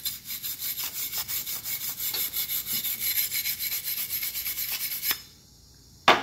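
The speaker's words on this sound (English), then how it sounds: "Give that a nice brushing" Wire brush scrubbed hard across a stainless steel TIG weld to clean off discolouration, a continuous bright rasping scrape for about five seconds, then a pause and one short final stroke.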